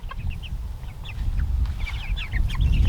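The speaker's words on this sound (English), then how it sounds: "So let me show you the meat chickens real quick." Meat chickens in a chicken tractor on a small farm cluck and chirp steadily at close range over low rumbling background noise, with no talking.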